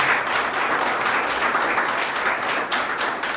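Audience applause at an agricultural innovation presentation at the Expointer 2023 fair, a dense, steady wash of many hands clapping together for several seconds without pause.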